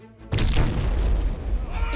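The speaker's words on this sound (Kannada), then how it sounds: "bomb blast ಆಗೋಯ್ತಲ್ಲ" A cartoon firecracker bomb goes off with a sudden loud boom, followed by a long rumbling, crackling tail that slowly fades over the next second or two.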